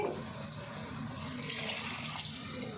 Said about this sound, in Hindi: साथ ही हम इसमें कुछ पानी ऐड कर देंगे।